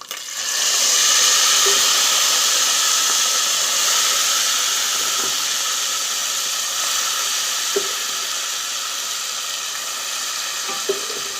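White chickpeas go into hot oil already seasoned with cumin, setting off a loud, steady sizzle and hiss. It holds for about eleven seconds and eases off only slightly, with a few faint clinks of stirring.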